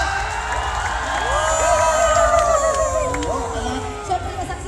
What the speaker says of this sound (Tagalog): Pwede bang palakpakan may halong hiyawan?